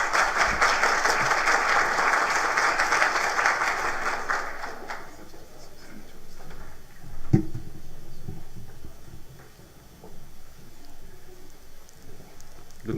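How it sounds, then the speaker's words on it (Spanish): Audience applause welcoming a speaker at an event in Bogotá, a dense, steady wash of clapping for about five seconds that then fades into scattered claps, shuffling and low room noise. "con un fuerte aplauso."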